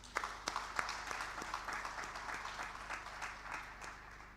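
Audience applause for the Vice President at an AfCFTA digital trade workshop, a steady wash of many hands clapping with a few sharper claps near the start, moderately distant and even throughout.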